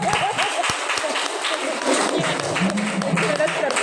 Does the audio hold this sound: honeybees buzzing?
no